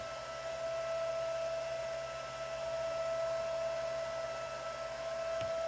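A Supermicro SuperServer SYS-E200-8D with an added third 40mm fan runs at high RPM: a steady, close whoosh of air with a constant whine running through it, and no talking.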